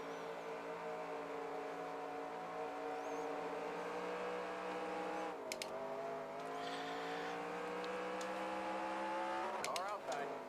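Simulated race car engine from NASCAR Racing 2003 at the MBNA America 400, a loud steady high-pitched drone with shifting revs, brief dips near 5.5 and 10 seconds, continuous throughout with a voice talking over it.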